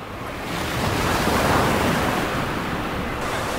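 Ocean surf rushes onto an olive ridley sea turtle nesting coast, a loud, steady roar of breaking water that swells slightly and then holds, with no voices.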